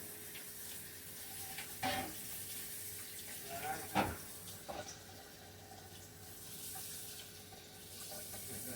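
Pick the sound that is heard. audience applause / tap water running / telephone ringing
tap water running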